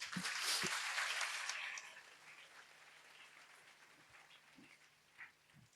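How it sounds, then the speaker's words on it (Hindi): A church congregation at a Sunday service in Karim Nagar bursts into applause, loud and dense for under two seconds, then fades to softer scattered claps with a faint hum beneath. "एक बार ताली बजाइए"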